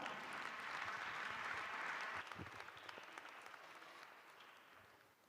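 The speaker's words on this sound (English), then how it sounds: "Can you please give him a round of applause?" An audience at a children's sector parliament session applauds to welcome the Speaker of Tshwane, a steady round of clapping that fades gradually over several seconds.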